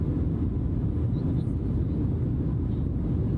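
Steady, loud cabin-like jet engine drone of a Fly By Wire A320neo in a flight simulator game, a constant low rumble with no change in pitch.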